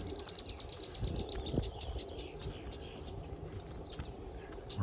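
Birds chirping beside a creek in Lakeview, Regina, with repeated quick high tweets and trills over a soft outdoor background and a brief low thump, fairly faint overall.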